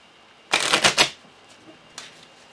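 A quick riffle of shuffled cards in a video game, a burst of crisp flicking lasting about half a second, followed by a softer brief rustle.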